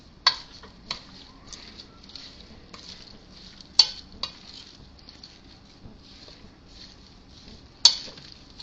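Greek salad with oregano is tossed in a bowl, giving a soft, quiet rustle of ingredients broken by a few sharp clinks of utensil against dish, spaced irregularly across the stretch with no talk.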